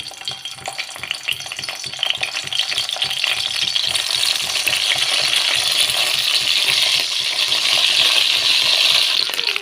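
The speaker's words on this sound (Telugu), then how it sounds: "ఇప్పుడు ఇలా ఆయిల్ యాడ్ చేసుకున్నాక ఇందులో మనం ముందుగానే ప్రిపేర్ చేసి పెట్టుకున్న వంకాయలను వేసుకుందాము" Eggplant pieces fry in hot oil in a kadai for a spicy vankaya dish. A loud, close, continuous sizzle swells after the first seconds, with clinks and stirring scrapes layered through it and no voices.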